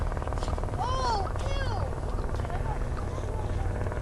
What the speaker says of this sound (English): They now assume that the helicopter was hunting the Bigfoot.